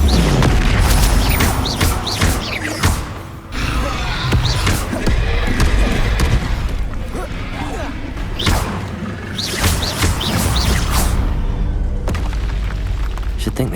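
Booming fire-spell blasts from Incendio cast in Hogwarts Legacy, heavy thuds and whooshes layered over loud continuous game ambience and combat noise, with shouted voices in the mix.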